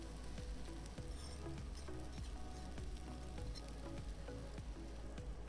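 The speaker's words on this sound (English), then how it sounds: "Mix well and fry until it looks good for you." Buckwheat frying with omelette pieces, soy sauce and cheese in a pan gives a steady, close sizzle with light crackling and patter that runs throughout, occasionally stirred, with no talking.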